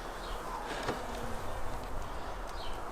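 Honey bees buzzing over hive frames in a backyard beehive, a continuous close-up hum with individual insects passing near, no talking.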